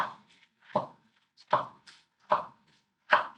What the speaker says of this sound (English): lettuce is easy. Just a bit of a chop there.